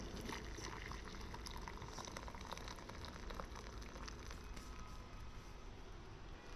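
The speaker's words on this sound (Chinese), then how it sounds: "倒入开水。" Boiling water pours into a bowl of salt for Hakka rice-flour dumplings, a steady dense rush and splash of liquid that holds continuously and fairly loud with no talk.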